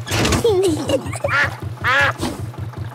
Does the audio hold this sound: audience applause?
no